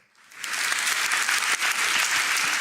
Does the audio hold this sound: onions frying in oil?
no